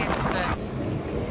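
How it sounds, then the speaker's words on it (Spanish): Motorboat carrying about ten people across the sea off Cozumel, Mexico, with steady engine and hull rumble mixed with heavy wind buffeting on the microphone, loud and continuous throughout. "Vamos en una lancha."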